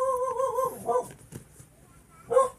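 A dog whimpers and yips somewhere below in a house, a few short high whines followed by quieter yelps and one last louder whimper, faint and alone without talk.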